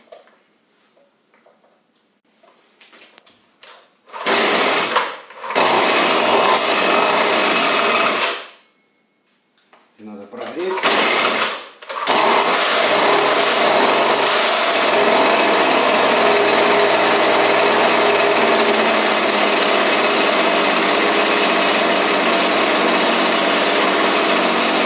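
Small carburetor engine, its adjustment bolts just turned, firing up in a workshop: brief starting bursts with a short stall, then a loud, steady high-pitched buzzing idle that runs on alone.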